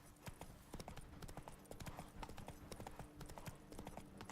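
Roach the horse galloping in The Witcher 3: Wild Hunt, rapid rhythmic hoofbeats pounding steadily throughout, quiet game audio with faint tack jingles.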